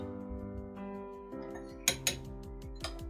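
A spoon stirs a cream and wheat starch face mask in a bowl, giving a few light clinks and scrapes over steady background music.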